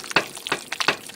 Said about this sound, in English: I'm going to use my spatula here. And just stir this in